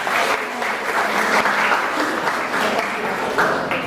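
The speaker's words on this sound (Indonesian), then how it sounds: "beri aplaus yang sangat luar biasa" An audience applauds two guest speakers at the end of a small-business workshop session. The clapping is steady and dense from many hands, filling the room without pause for several seconds.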